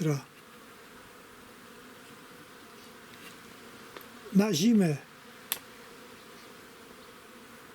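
Honeybees around a new beehive frame, with a steady low insect hum through a quiet outdoor setting and a brief, louder buzz as one passes close. Someone speaks briefly.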